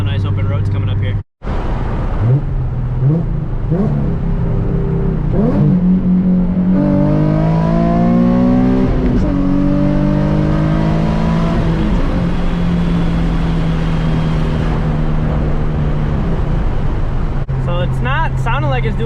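Retuned Nissan 370Z Nismo driven on an open road: loud cabin-heard engine and exhaust rising through the revs with a few shifts and lifts, steady drone in between, and a person talking over it.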